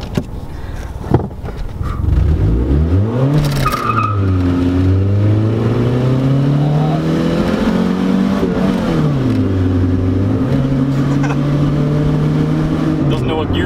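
A cheap Craigslist car accelerates hard, its engine revving loudly and sweeping up and down through gear changes, heard from inside the cabin with voices over it.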